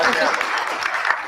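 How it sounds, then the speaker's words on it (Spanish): Applause from the audience at a book launch of portraits from the Mamacha Carmen festival in Paucartambo, a dense, steady wash of clapping throughout with a voice speaking over it. "Sí, pregunta, es un aplauso."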